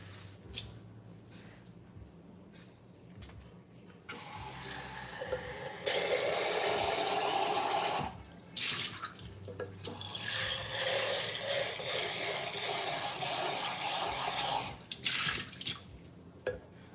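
Water runs from a kitchen tap while an item is washed beneath it, a steady broadband rush that starts and stops in bursts with brief pauses and splashes between.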